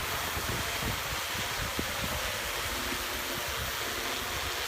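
Strong, gusting wind buffets the microphone in an open area where a Yuneec Q500 drone is flown, a steady loud broadband roar with low rumbling surges and no voices.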